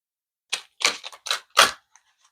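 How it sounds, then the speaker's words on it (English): Several brisk riffling bursts of a large oracle card deck being shuffled, close by, in quick succession with short pauses, followed by a few faint taps. "Larger decks are really hard for me to shuffle"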